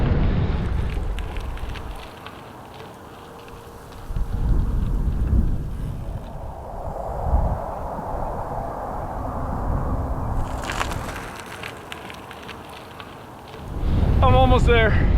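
Strong wind buffets the microphone during bicycle touring through New Mexico on a Lynskey GR300, a rough rumbling roar that swells in several gusts, eases briefly, then surges back loud near the end.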